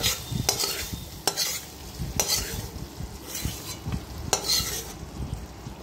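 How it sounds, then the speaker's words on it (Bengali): Fried spice tempering is stirred into a pot of khichuri, with close spoon scrapes and metallic clinks landing every second or so over a low, bubbling sizzle. "একটু ভালো করে নাড়িয়ে খিচুড়ির মধ্যে দিয়ে দিচ্ছি ফোড়ন"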